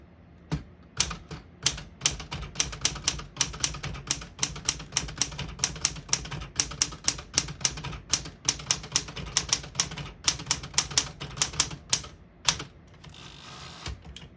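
A 1975 Smith-Corona Galaxie Twelve typewriter in alpine blue is typed on with the key tension set high, producing a rapid, close run of sharp keystrike clacks that ends in a brief rattling carriage movement.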